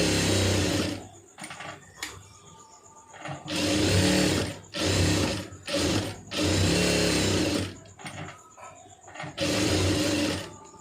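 Sewing machine stitching the lining of a blouse. Several bursts of fast whirring run in repeated segments with short pauses between them, close and clear with no talk.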